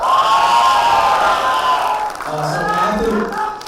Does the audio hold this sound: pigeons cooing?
no